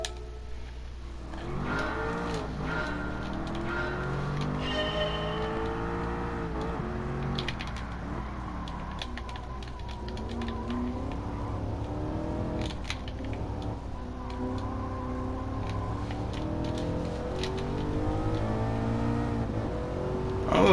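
Aston Martin V8 Vantage S with a manual gearbox revving on a Gran Turismo 7 circuit, its loud engine note rising and falling steadily through gear changes for about twenty seconds, with no talk.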